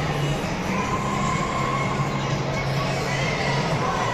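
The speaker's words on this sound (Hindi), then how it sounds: "काफ़ी भीड़ है यहाँ भी" Dense crowd murmur fills a busy shopping mall in Ahmedabad, a steady, loud wash of many overlapping voices with no single speaker standing out.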